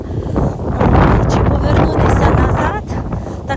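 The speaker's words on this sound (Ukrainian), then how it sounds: "Вітер, бачите, який сильний." Strong wind buffets the microphone in a loud, continuous roar, with a voice speaking partly underneath it.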